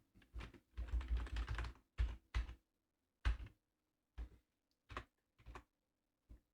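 Keys clatter on a computer keyboard while an email address and password are entered, first in a quick burst and then as sparse single taps and short clusters, close and quiet with no talking.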